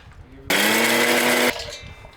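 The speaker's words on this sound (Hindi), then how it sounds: "इसमें से मैं अब सबसे पहले मखाने लेकर पीसूँगी" A mixer grinder grinds fox nuts (makhana) in a single loud, steady burst of about one second, its whining motor starting and stopping abruptly against a quiet kitchen.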